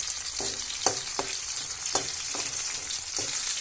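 Onion and a chilli sautéing in a pan for thuthuvalai rasam give a steady close sizzle, with a few sharp scraping stirs breaking through at irregular intervals.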